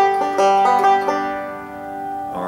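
Banjo playing an alternating thumb roll for the first measure of Shady Grove, bright plucked notes rolling in a steady pattern, close and alone, with a few final notes ringing out.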